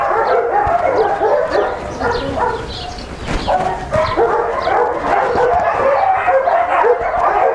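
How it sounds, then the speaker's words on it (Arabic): A guard dog in training barks and yips repeatedly at close range, with loud, busy bursts and some whimpering throughout. "طبعا ده الكلب ده كان بيتدرب عندنا هنا تعاوي حراسه."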